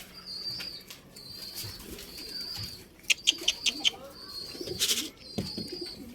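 Pigeons being brought down onto a rear perch clatter their wings in several quick bursts of flapping, with soft cooing and faint chirps around them and someone talking quietly in the background.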